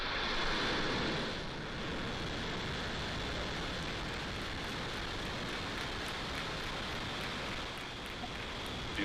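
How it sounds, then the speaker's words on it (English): Rocket engines roar steadily at the Transporter-3 launch, a loud, broad, continuous rumble with a bright hiss that is strongest in the first second and a half and then holds for the rest of the clip, with no talk over it. "and liftoff"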